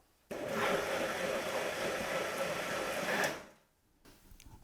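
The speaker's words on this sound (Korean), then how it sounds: "이제 믹서기에다 다 갈았는데요" A blender grinding soybeans and barley whirs loudly for about three seconds, grinding steadily, then winds down and stops, leaving faint clatter afterward.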